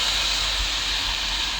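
Damp pumpkin and squash seeds toasting in a hot cast iron pan with butter make a continuous, close, even hiss with no breaks.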